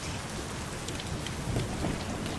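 Rain drums steadily through a stormy night with a low rumble of thunder rolling underneath, a dense, moderately quiet wash of falling water heard alone.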